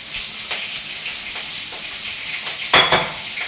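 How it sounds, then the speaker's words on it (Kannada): Chopped onion, green chilli and curry leaves fry in hot tempering oil with mustard seeds, a soft continuous crackling sizzle with light stirring and a sharp clatter near the end. "ಈರುಳ್ಳಿ ಮೆಣಸಿನಕಾಯಿ ಕರಿಬೇವಿನ ಸೊಪ್ಪು ಹಚ್ಚಿಟ್ಕೊಂಡಿದ್ನಲ್ಲ ಅವನ್ನ ಒಗ್ಗರಣೆಗೆ ಹಾಕೋಣ"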